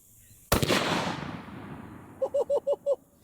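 A Remington 7400 rifle chambered in .270 Winchester fires one loud, close shot that leaves a long echoing tail. A short run of brief tonal pulses follows.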